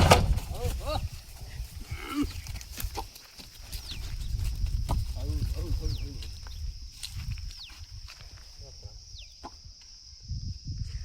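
Bulls being unloaded at a cattle market in Tummalabeedu make hooves clatter and shuffle, with occasional low lowing amid outdoor bustle and people talking.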